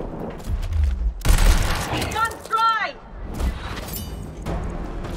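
Gunfire from the video game Gears Tactics comes in loud bursts and booms, with mechanical clatter between shots, while a voice talks over the game sounds.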